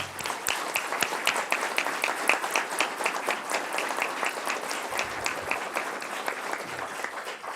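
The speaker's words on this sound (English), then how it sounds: "If you want to give him a huge round of applause." Audience applause at a Cecil Township regular monthly board meeting: a steady room-wide patter of many hands clapping, fairly loud and dense, holding evenly for several seconds with no talking.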